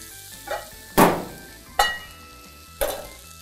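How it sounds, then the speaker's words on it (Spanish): A cauliflower and mushroom sauté in a pan, with a few sharp scraping stirs spaced about a second apart over a faint low sizzle, close by and without talking. "Le voy a agregar esto aquí al salteado. Y vamos a mezclar muy bien."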